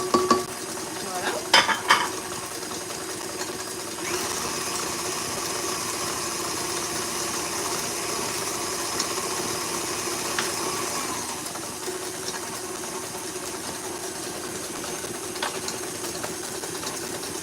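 Chocolate and vanilla marble cake batter being blended in a bowl with a mixer, a steady whirring hum with a few scraping knocks near the start.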